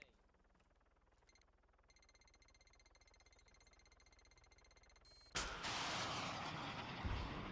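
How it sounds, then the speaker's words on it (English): Helicopter in the video game Antistasi, a steady mechanical rotor drone that swells abruptly into a loud, broadband roar partway through, like a close takeoff. "that's the sound of a helicopter taking off."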